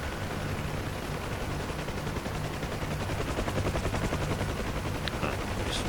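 A UH-1H Huey helicopter flies in the DCS World simulator, its rotor thumping in a steady pulsing beat over a broad engine and wind roar. The sound is fairly quiet and constant, with no talking.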